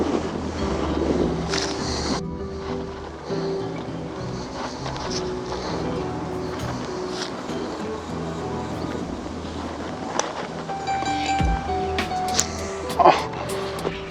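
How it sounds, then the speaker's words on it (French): Strong wind sweeps across the TorreQuebrada golf course in Marbella, a steady low rumble buffeting the microphone for the whole stretch, with scattered knocks and faint voices mixed underneath. "Il y a beaucoup de vent"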